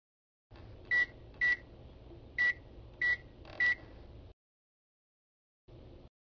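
A microwave oven hums steadily while five short, bright beeps sound at irregular intervals over about three seconds, then the hum stops; after a short pause the hum briefly resumes.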